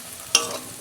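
Tomato goes into a pan of frying masala of coconut, turmeric, red chilli powder and a little milk for a fish curry, giving one sharp close splash-sizzle that fades into a soft steady hiss under a second of quiet.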